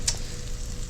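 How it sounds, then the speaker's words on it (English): Onions cooking with jarred garlic in a pan over low heat give a steady, close sizzle and crackle, with one brief bright pop near the start. "I want to cook these onions for a while with that garlic on that low temp"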